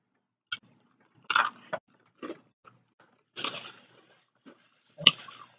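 Someone eats nachos in a quiet room, giving sparse close crunches and bites with soft chewing between them and no talking.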